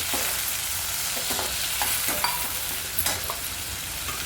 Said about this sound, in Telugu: ఈ ఉల్లిపాయ రంగు మారే వరకు వేయించుకోండి